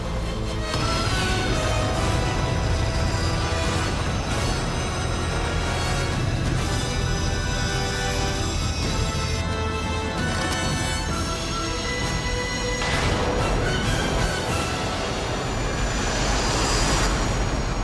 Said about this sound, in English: Thunderbird 2 prepares for a thrilling takeoff